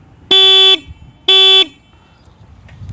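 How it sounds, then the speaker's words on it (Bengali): A motorcycle horn blares twice after its switch is turned on, two short loud electronic honks about a second apart, close and alone over a quiet background hum. "এবার আমি হর্নের সুইচটা অন করব।"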